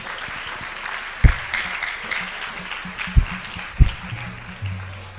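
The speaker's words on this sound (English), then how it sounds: "A round of applause for him." Applause from an audience at a medical sciences university's first induction ceremony, a steady clapping wash held at moderate level, broken by a few sharp thumps near the microphone.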